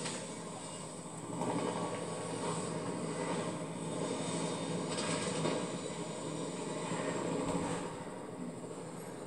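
Steady engine roar of a helicopter in Fortnite, droning continuously at moderate loudness with slight swells, no voices.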